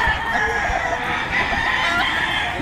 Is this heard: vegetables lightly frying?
no